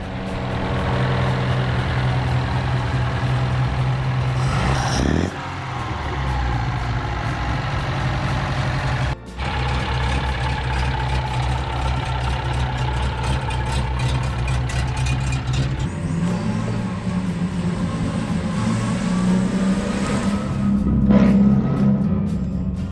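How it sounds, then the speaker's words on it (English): A 1935 Aston Martin MK2 engine idles and revs through its stainless exhaust, a steady close throaty rumble with a brief dip and a swell in revs near the end. "a driver's car that will start on the button and sweep you off your feet with the bark of its stainless exhaust"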